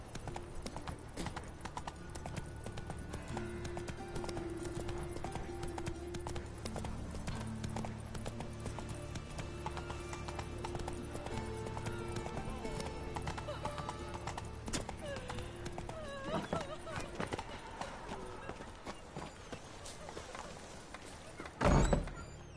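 Continuous clip-clop of the horse Roach galloping in a video game, rhythmic hoofbeats running steadily throughout under game sounds, with a louder thump near the end.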